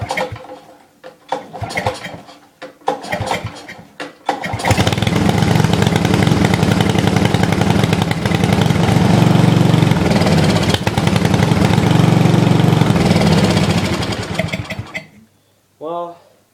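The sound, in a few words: Briggs and Stratton small engine starting and running with choke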